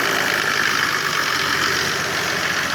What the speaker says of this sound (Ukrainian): Хороший мотор.